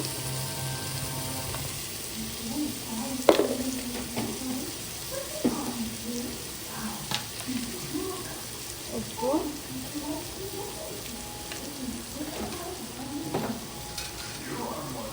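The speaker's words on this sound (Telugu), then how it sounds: "ఇలా మటన్ వేసేసుకొని ఒకసారి కలిపేసుకొని" Mutton sizzles softly in a pot as it is stirred, with occasional clinks of a spoon against metal, while someone talks over the quiet frying.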